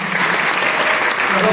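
Steady, dense applause from a crowd, loud and continuous throughout with no pauses.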